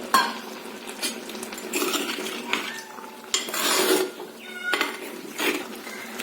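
Ground coconut paste going into a simmering curry pot, with a run of metal spoons and utensils clinking and scraping against the vessel in uneven bursts, close and alone.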